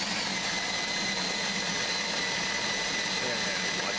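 A constant, loud motorized whir and grinding drone of an electric drill turning a grain mill for homebrewing, steady throughout without pause.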